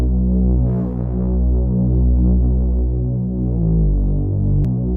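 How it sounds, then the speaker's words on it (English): A low bass line with Soundtoys Decapitator distortion adding warm drive throbs in a steady, loud, sustained hum with gently pulsing notes, alone without voices. "It's adding this nice warm drive to the bass."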